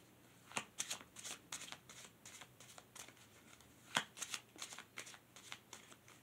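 Oracle cards are shuffled by hand in a quiet room, with soft repeated riffling and flicking bursts in an irregular rhythm that is close and fairly faint.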